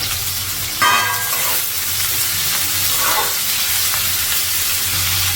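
Curry leaves dropped into hot oil for a tamarind fish curry, a loud sudden crackling sizzle that bursts up and then settles into a steady frying hiss with stirring, no talk.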